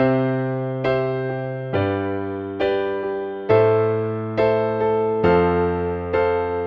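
Piano chords played one after another at a slow, even pace, each struck cleanly and left to ring and decay before the next.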